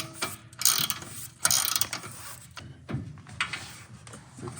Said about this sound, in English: He's actually tightening the bolts that go up in the camper right now.